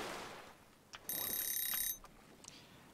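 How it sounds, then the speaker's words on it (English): In the PS4 survival game Stranded Deep, a timer signals that smoked meat is ready with a bright, steady electronic ringing that lasts just under a second. A few soft clicks come before and after, and no one speaks. "That is a timer letting us know that."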